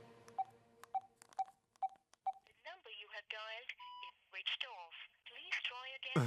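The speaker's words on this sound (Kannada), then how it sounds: "ಫೋನ್ ಮಾಡಿ ನೋಡ್ತೀನಿ" A series of short telephone dialing beeps, evenly spaced, followed by a voice speaking; the tones are clear and isolated at first.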